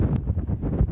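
Gusty wind buffets the microphone at a beach car park beside the dunes in Saint-Hilaire-de-Riez, Vendée, a steady low rumbling roar with uneven surges, close and loud, with no talking.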